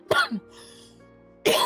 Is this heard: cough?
yes